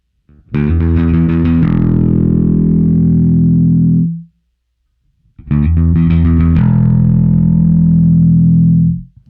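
Two loud, distorted Michael Kelly Vintage Element 4 electric bass phrases through an effects pedal with more neck pickup, each a few plucked notes settling into a long sustained tone, separated by a brief silence.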